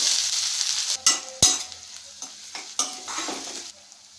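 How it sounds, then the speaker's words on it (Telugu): Cumin, curry leaves and onions hit hot oil in a pan with a bright, hissing sizzle. Several sharp clinks and scrapes of a stirring spoon punctuate it, close and fairly quiet. "ఆయిల్ హీట్ అయింది, దాంట్లోకి జీలకర్ర వేసుకుంటున్నాము, కరివేపాకు, ఉల్లిపాయలు"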